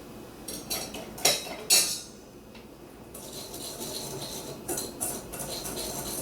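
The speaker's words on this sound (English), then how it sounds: "we're gonna whisk together the sugar, the cornstarch, the cinnamon, and the pinch of salt" A whisk clatters and scrapes against a bowl while sugar, cornstarch, cinnamon and a pinch of salt are mixed for a double berry cobbler filling, in uneven bursts of close clinking and rattling with short pauses.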